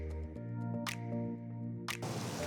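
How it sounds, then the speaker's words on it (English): Water trickles and splashes into a kitchen mixer jar coated with leftover masala paste, with a couple of short bursts of pouring over a steady background hum, then a louder rush of water at the end. "I'm just going to add very little water to the mixer jar and remove all the excess masala that's sticking to the jar"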